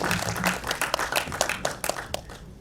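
An audience at a song launch event applauds, a steady patter of many hands clapping, moderately quiet and slightly distant, tapering off toward the end.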